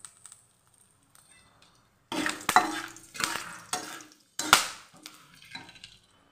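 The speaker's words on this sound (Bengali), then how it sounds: "এখন যেই মাছ ভাজার তেলটা রয়েছে সেটার মধ্যে গোটা গরম মশলাটা ফোড়ন দিয়ে দেবো" Whole garam masala spices crackle and sputter as they hit hot oil left over from frying magur fish, a burst of loud sizzling that comes in several surging waves after a quiet start, with no talking.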